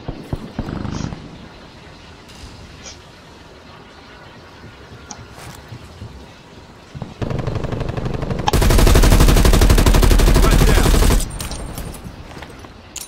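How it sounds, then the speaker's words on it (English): Gunfire in the Call of Duty Black Ops Cold War video game, with a hostile sentry turret firing scattered shots followed by a loud sustained automatic burst lasting a few seconds and then trailing single reports. "Hostile sentry turret active."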